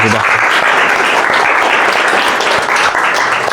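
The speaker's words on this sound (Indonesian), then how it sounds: "terima kasih, tepuk tangan untuk 3 kelompok" Loud, dense applause from a group, continuous clapping close by at an even level throughout.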